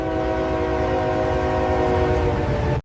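A freight train's horn blares loud and close, a sustained multi-tone chord over rumbling rail noise, holding steady for nearly three seconds before cutting off abruptly.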